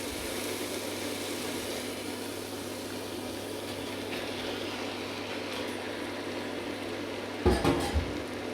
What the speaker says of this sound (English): stir fry the meat, so just to seal it off